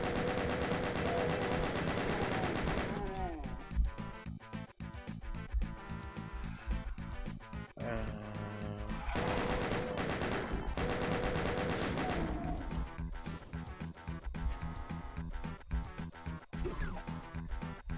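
Rapid enemy gunfire and shooting in a DOOM Plutonia mod session, loud and continuous over a dense game soundtrack, with repeated bursts and impacts throughout.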